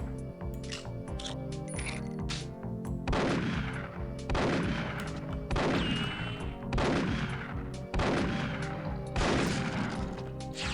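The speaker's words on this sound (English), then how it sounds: "I'm guessing I just need to shoot this a lot of times" Gunfire from a weapon in Perfect Dark on PC, heard as about six loud, evenly spaced shots roughly a second apart over a steady background hum.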